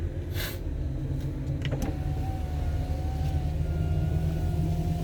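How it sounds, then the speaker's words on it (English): Power windows on a car being driven along a forest road between Dandeli and Bangalore give a thin electric motor whine lasting a couple of seconds over the steady engine and road rumble. "I'm going to be lowering the windows and driving"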